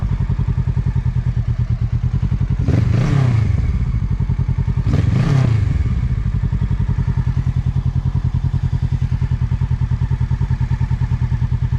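A motorcycle engine idles in freezing winter cold in Boston, a loud, close, steady pulsing rumble broken by two brief thumping clatters.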